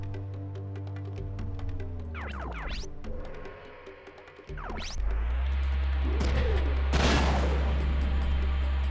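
Gunfire from the Front Mission 3 video game bursts out in rapid, loud shots over a droning game soundtrack, with a few sweeping whooshes and two heavy blasts near the end.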